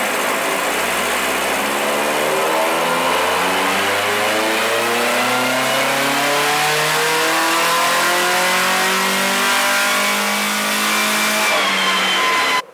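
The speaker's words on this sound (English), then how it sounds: "He's got a car going on the rollers this morning" A car engine revs on dyno rollers in a workshop, a loud, steady mechanical roar with its pitch climbing smoothly through a long pull before cutting off abruptly at the end.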